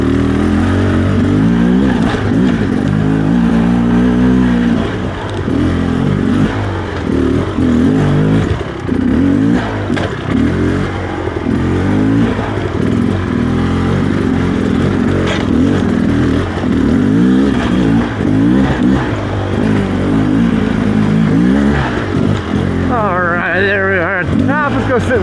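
An enduro motorcycle engine revs hard and unevenly while climbing a rocky hill, loud and close, with repeated bursts of throttle and clattering over the terrain.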